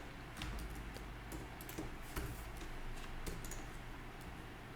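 Soft, rapid keystrokes tap on a computer keyboard, quiet and close, in an irregular patter over a steady low background hum.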